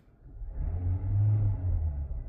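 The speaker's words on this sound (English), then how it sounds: "I'm gonna press the gas so you can hear the gas." A 2024 Hyundai Santa Fe Limited Hybrid revving as the gas pedal is pressed, a soft engine rumble swelling up and holding for about a second before easing, fairly quiet and close.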